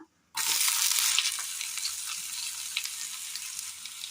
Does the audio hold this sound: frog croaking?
no